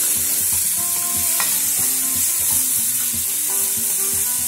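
Garlic, coriander seed, salt, onion and bell pepper frying in a pan, a constant bright sizzle with repeated scraping stirs of the spoon close by.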